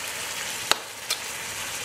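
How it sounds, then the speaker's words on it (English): Steady sizzling hiss of tomato and sauce frying in a pan, with two brief clicks or taps partway through. "we are adding our tomato and the sauce, and we're turning it down a little bit so it sizzles"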